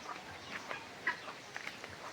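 A brooding hen sitting on guineafowl eggs gives a few soft, close clucks spaced across a quiet stretch.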